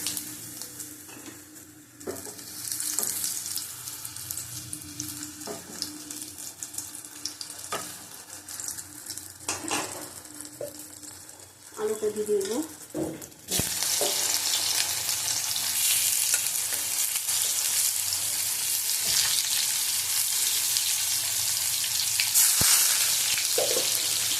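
Whole cumin and potatoes fry in oil for a raw banana and potato curry, a steady close sizzle broken by stirring clatter, then swelling into a loud, continuous hiss of frying that carries on to the end.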